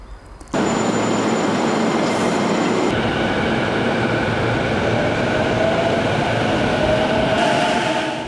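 A train in Japan slowly pulls away from a station platform, a steady loud rumble of wheels and motors rising in intensity with a faint squeal, no voices.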